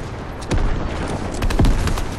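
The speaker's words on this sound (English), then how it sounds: "there's someone shooting rocket launchers" Rocket launcher fire in the Fortnite video game: two heavy booming blasts about a second apart over a constant noisy backdrop.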